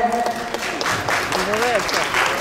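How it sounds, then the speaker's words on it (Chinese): An audience applauds in a steady wash of clapping to welcome the guest Wang Caihua at a stage event with Avantgardey, while voices talk over the applause. "那我们掌声欢迎彩华姐"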